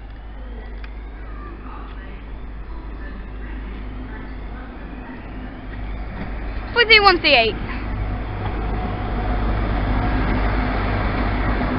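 A train pulls into Exeter St Davids station with a steady low rumble that builds toward the end, a brief cluster of tonal squeals partway through, and a person talking over it.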